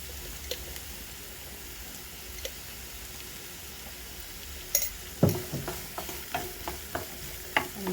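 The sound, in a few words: stirring vegetable fried rice in a pan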